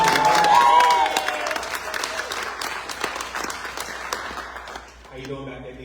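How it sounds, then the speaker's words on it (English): An audience at a poetry book launch applauds a poet with steady, dense crowd clapping and some cheering, voices running through it as it gradually fades. "Clap it up again for the"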